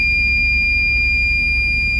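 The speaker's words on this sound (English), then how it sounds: "now my alarm has to beep here in the truck, that's always annoying" A continuous high-pitched electronic alarm tone inside a truck cab sounds steadily over a low engine rumble, loud and unbroken throughout.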